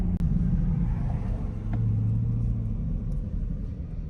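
A C8 Corvette Stingray with a 6.2L V8 and MRT exhaust pulls hard, a deep, loud, close rumble that swells steadily with a brief rising engine tone midway.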